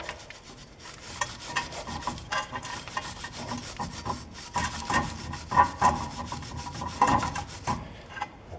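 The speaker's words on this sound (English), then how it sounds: "And clean up the ears as well." The ears of a rusty Chevy Trax front brake caliper bracket are scrubbed clean, giving close, rhythmic back-and-forth rasping strokes, steady in tempo and moderately loud, that stop just before the end.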